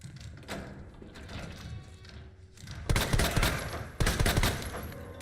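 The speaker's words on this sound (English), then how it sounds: "I'm just gonna shoot this dude a couple of times to use up some ammo" Gunshots ring out as a zombie is shot in a Resident Evil video game, with scattered quieter impacts first and then two loud, sharp reports with echoing tails, about a second apart.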